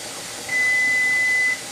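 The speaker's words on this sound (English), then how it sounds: "There's my timer." A kitchen timer gives one steady, high-pitched beep lasting about a second during soup stock canning, set against a constant background hiss, with no speech.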